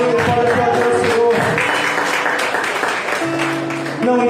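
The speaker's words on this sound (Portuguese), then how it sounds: "pode aplaudir ao Senhor" Congregation clapping during a Portuguese-language church service, fairly loud applause mixed with voices and sustained musical tones.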